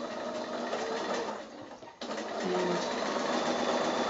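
Domestic sewing machine running steadily at normal stitch length while piecing a kimono foundation-pieced quilt block, a continuous close whirring with a brief pause near the middle before stitching resumes.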